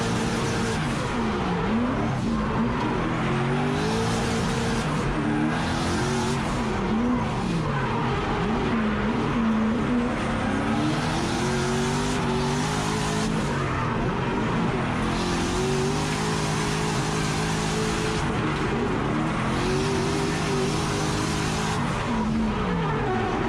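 A drift car sliding around a track, engine revving hard and continuously with tires squealing through long skids, loud and close throughout.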